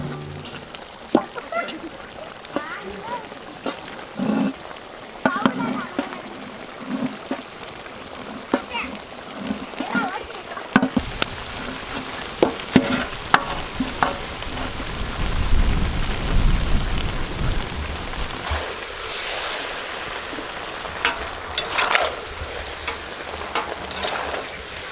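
Boiled pasta tipped into a pan of chicken curry cooking outdoors, giving a loud wet, rushing sizzle and stirring noise with a low rumble midway, amid steady crackling background and occasional talk.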